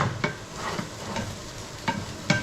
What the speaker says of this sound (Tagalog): Na iniinit yung pagkain sa kalan kaysa sa microwave